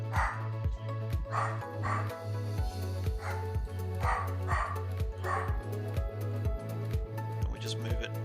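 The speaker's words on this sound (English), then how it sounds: "And there's a barking dog." Dog barking repeatedly in a steady rhythm, about a dozen sharp, loud barks close by over a constant low hum, with no voices.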